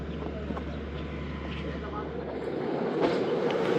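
The Karachi Express train running as it approaches Khanewal Junction, a steady low rumble of wheels and carriage with faint rhythmic clatter, under someone talking.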